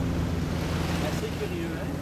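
A boat speeding up near Atlantic City gives a steady engine drone under rushing wind and water noise. A voice speaks briefly over the constant roar.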